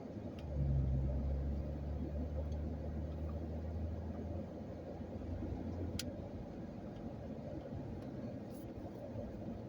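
A car idling and creeping along in a line of traffic, a steady low engine rumble with a deeper hum near the start, light ticking on top, no voices.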